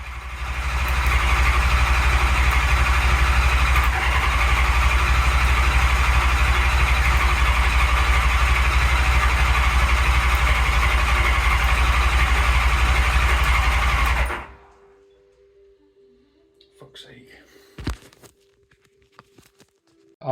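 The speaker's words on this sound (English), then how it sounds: "And unfortunately the starter motor stuck on" An old engine, left standing for about 20 years, runs loud and steady with its starter motor stuck on, a continuous droning roar that cuts off abruptly near the end, leaving faint clicks and scrapes in a quiet garage.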